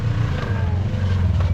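A Polaris RZR 900S UTV on 32-inch tires on a Tennessee trail, its engine droning steadily and rising slightly in pitch as it revs, close and loud.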